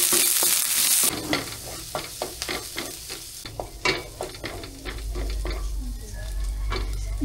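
Garlic and onion sautéing in hot oil for burong tilapia, a steady sizzle broken by repeated scraping stirs of a utensil against the pan, up close, with the frying growing louder toward the end.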